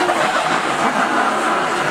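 A Ducati Monster 796 motorcycle engine runs at a steady, loud, unbroken roar that fills the whole two seconds, with no speech over it.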